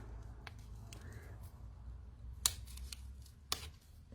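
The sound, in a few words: cutting a flower for a mixed media canvas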